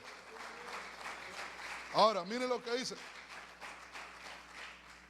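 A church congregation claps as an offering of applause during a Spanish-language sermon, a steady patter of hands running under a preacher's raised, animated speech.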